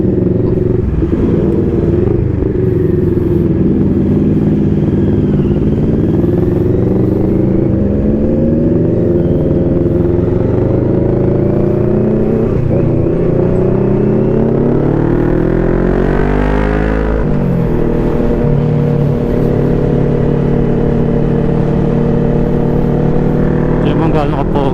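A motorcycle engine on a ride along a river route drones loudly and continuously, its pitch climbing and dropping as the rider revs and shifts, with riders talking over the constant engine noise.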